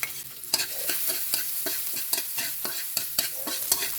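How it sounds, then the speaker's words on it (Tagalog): Onion and garlic sauté in hot oil in a frying pan, sizzling steadily while a utensil stirs through them in a quick, regular rhythm of scraping strokes, close and fairly loud, with no talking. "Magisa lang natin yung sibuyas."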